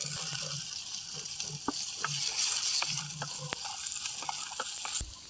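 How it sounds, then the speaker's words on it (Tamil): Chopped onion and tomato sautéing in oil in a village kitchen for an anchovy dried-fish thokku, with a steady sizzle of frying broken by sharp scraping stirs of a spoon against the pan, close and alone. "இப்போ வெங்காயம் வதங்கிட்டு தக்காளி சேர்த்து வதக்கிக்கலாம்."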